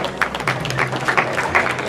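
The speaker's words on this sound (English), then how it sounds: "Let's give the kids a round of applause" An audience at a junior livestock show claps for young dairy heifer exhibitors, brief scattered applause of moderate loudness over a low background hum in an arena.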